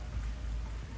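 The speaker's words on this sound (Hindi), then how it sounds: "बारिश हो रही है, झमाझम बारिश।" Heavy rain falls steadily in the Himalayan hills in wintry weather, a faint, even broadband hiss with low rumble and no talking.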